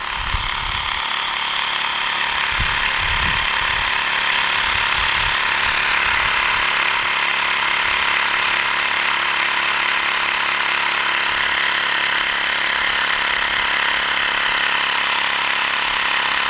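A Xiaomi Mi portable air pump runs steadily while inflating a tyre, giving a constant loud mechanical buzz and hum held close for the whole stretch with no pauses or speech.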